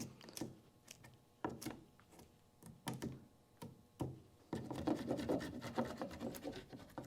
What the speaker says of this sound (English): I'm just taking the stuff off with the side, not using the sharp pointy part of the chisel at all.